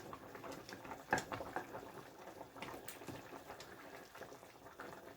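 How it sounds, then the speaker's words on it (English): Jamaican cow foot with broad beans simmering in a covered pot, a faint, steady bubbling and light patter with a few soft clicks, heard quietly and alone. "So I'm gonna cover my pot and allow it to simmer"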